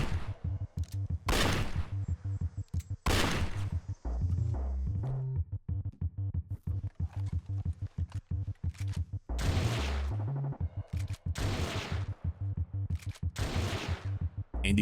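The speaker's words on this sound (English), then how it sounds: "each of these weapons has their own unique sound taken from Red Dead Revolver" Revolver, repeater and sawn-off shotgun shots in a Red Dead Redemption 2 weapon mod using sounds from Red Dead Revolver: sharp loud blasts fired in bursts with short gaps, some quick runs of several shots.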